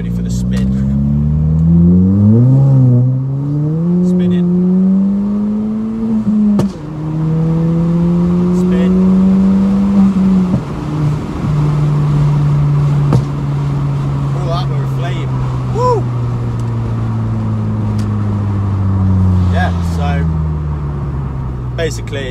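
A remapped Ford Fiesta ST accelerates hard along a straight road, its engine note climbing through repeated gear changes, loud and close from inside the car, with the revs rising and dropping in sweeping pitches.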